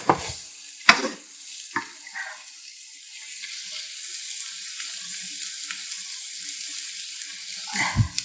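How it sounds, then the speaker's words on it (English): Salt and pepper frying in a pan for pasta: a soft, steady sizzle throughout, opened by a few sharp clinks and scrapes at the start and again near the end. "And let that all fry together there a little bit."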